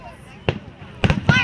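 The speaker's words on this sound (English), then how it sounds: "Fireworks. Canada." Fireworks bursting at a Canada Day celebration: a sharp broadband bang, then a cluster of louder crackling blasts near the end, with a faint murmur of voices between them.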